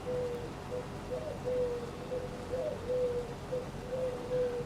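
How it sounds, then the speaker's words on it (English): Pigeons coo in Farming Simulator 25, a soft low call repeating steadily at an even pace over a quiet ambient background. "You have to shoot them pigeons."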